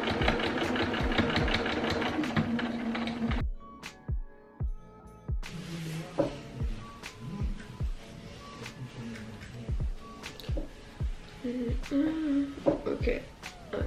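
A sewing machine stitches a seam with a fast, even mechanical whir for a few seconds up close, then stops. Afterward a person talks over sparse handling clicks and knocks.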